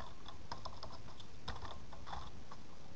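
Quick keystrokes on a computer keyboard, a close run of light clicks in an uneven rhythm, alone with no talking.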